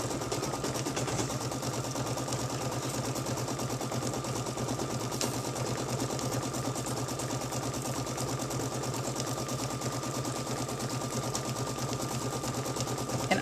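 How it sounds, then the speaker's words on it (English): An embroidery machine stitches around a piece of Velcro, a steady rapid mechanical chatter that runs on unbroken at an even pace, close and without voices. "Velcro on an embroidery machine, it stitches so much nicer"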